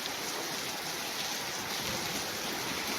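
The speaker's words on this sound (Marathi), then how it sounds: "मुसळधार वादळी वाऱ्यासह तुफान पावसाची बॅटिंग सुरू आहे" Heavy rain driven by strong wind pours over farm fields in Varvandi village, Sangamner taluka, Ahmednagar district, forming a steady, dense, close roar with no voices.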